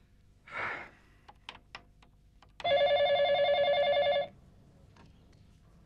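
A telephone rings once in one sustained electronic burst about a second and a half long, loud and close, with a sharp breath and a few small knocks before it in a quiet room.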